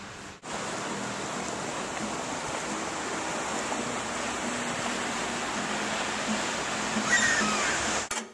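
A toilet flushes in Switzerland with a steady, loud rush of water that lasts several seconds before cutting off abruptly. A click sounds at the start and again at the end.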